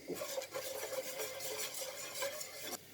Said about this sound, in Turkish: Salçamızın yine kokusu çıkana kadar kavurmaya da devam edeceğiz.